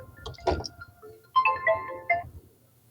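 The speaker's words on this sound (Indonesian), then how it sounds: "Telepon." A telephone ringtone plays a short run of bright melodic electronic beeps in two brief bursts, preceded by a soft rustle, close by in a quiet room.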